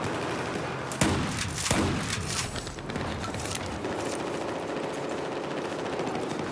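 Shotgun fire from a video game, a few sharp blasts followed by a steady crackle of shots over a noisy background.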